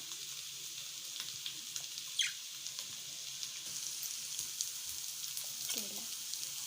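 Spicy sukha chicken cooking in an open, uncovered pan gives a soft, steady sizzle and frying hiss, with a few faint stirring scrapes and clinks over the low background.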